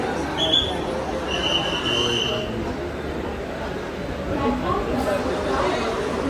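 A packed crowd of passengers on a railway station platform waits to board a crowded morning train. Many voices blend into a steady, close murmur of chatter that runs the whole way through.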